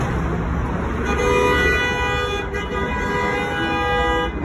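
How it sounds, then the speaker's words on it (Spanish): A car horn sounds in sustained blasts over busy street traffic, fairly loud and close, with engine noise filling the background. "allá va y toca el claxon"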